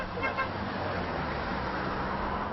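Cars roll steadily through a filtering roadblock at a yellow-vest protest on Réunion, a continuous traffic rumble with a brief horn toot near the start, moderately distant.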